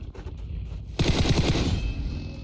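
Sudden burst of rapid automatic gunfire in PUBG, loud and close, breaking in after a second of quieter in-game rumble and then continuing.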